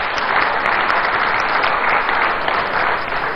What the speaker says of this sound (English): I think it's important that we give him a round of applause